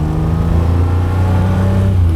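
A vintage Ferrari 250 GT Lusso engine drones steadily while driving, a deep, constant low rumble with harmonic hum that stays loud and even, heard from inside the car without any talking.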